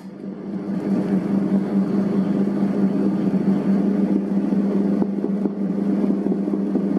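A dough mixer machine kneads bread dough made with eggs and milk, a steady loud motor drone with a low hum that runs continuously throughout, close up, with no talk.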